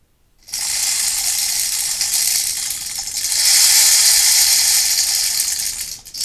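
Small balls rattle and roll down through holes inside a baby toy, giving a steady, loud clattering whir that swells midway and stops abruptly.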